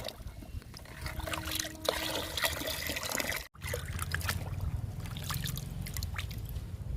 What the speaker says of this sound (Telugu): విరజాజికి లిక్విడ్ ఇచ్చేద్దాము